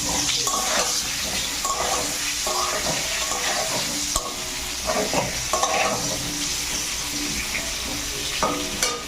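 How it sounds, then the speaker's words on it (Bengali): Potato pieces seasoned with salt and turmeric fry in hot oil, a steady close sizzle broken by repeated scraping and stirring strokes of a spatula in the pan. "লাল লাল করে ভেজে নেবো আলুগুলো"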